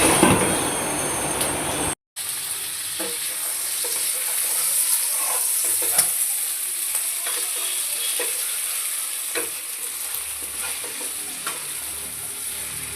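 Chicken frying in oil with powdered masala, coriander and cashews, sizzling steadily and close by, with scraping stirring strokes through the pan and a short gap of silence near the start.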